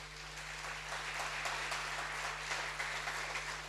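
A church congregation applauds, steady distant-sounding clapping from many hands under a faint low electrical hum, with no voices over it.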